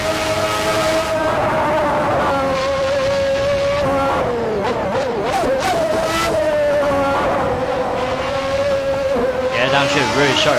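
Race car engine in Assetto Corsa, a continuous loud tonal drone with pitch swoops around the middle and a sharp downshift blip near the end, with voices talking over it.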